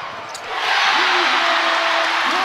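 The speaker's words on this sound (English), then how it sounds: "The crowd is up." A basketball arena crowd at an NCAA women's tournament game swells quickly into loud, sustained cheering after a brief quieter moment.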